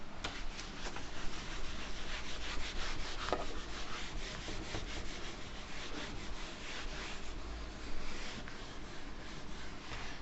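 A duster or hand rubs back and forth across a classroom board, wiping off written maths work in a steady continuous scrubbing that stays fairly even throughout, close and moderately loud with no voices.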